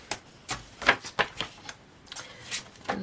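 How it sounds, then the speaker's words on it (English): A paper cutter slices straight lines through craft paper for a floral journal: a few sharp, close clicks and swishes come in quick irregular bursts, with quiet gaps between them. "just use my cutter, and then I can cut a straight line"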